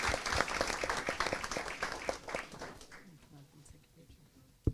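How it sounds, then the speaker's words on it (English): An audience at a school board meeting claps for students, a dense burst of applause that thins and fades over a few seconds, with a voice speaking partway through. "I want to give another applause to our great students here"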